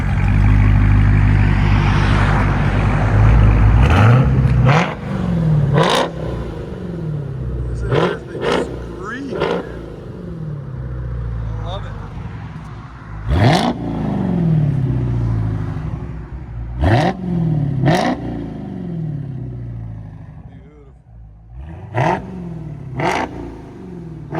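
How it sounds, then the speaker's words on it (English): A 2023 Dodge Charger Hellcat with a fully straight-piped, valve-deleted exhaust revs hard several times, each sharp blip rising and falling over a deep idle rumble, loud and close. "Charger Hellcat 2023 with fully straight pipe, valve delete also."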